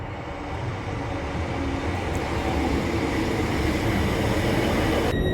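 A relatively empty train rumbles past on a foggy morning at a quiet Lincolnshire station, a steady close rolling roar of wheels on rails that builds slightly louder toward the end, with no talk.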